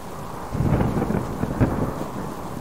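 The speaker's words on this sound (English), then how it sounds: "Maybe the rain will stop by the time we get there." Rain falls in the survival game Subsistence during a multiplayer session, with low rumbling swells like distant thunder rolling under the steady downpour and no talking.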